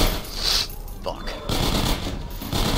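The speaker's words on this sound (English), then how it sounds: "Careful. I hear turrets." Rapid bursts of automated turret gunfire in Half-Life 2 Episode One ring out as loud, close volleys, broken by short gaps, with a person talking over the shooting.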